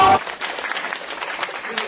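Audience at a community theatre play applauding as the show ends, a dense, steady wash of clapping that holds for about two seconds after a brief voice at the start.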